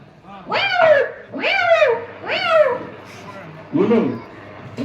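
A voice imitates a male cat's meow: four drawn-out, wavering calls, loud and close, with short pauses between them.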